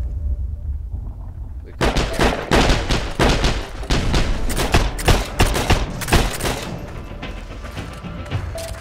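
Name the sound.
gunshots in the video game Heroes and Generals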